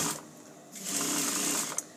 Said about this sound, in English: So I'm stitching across the front now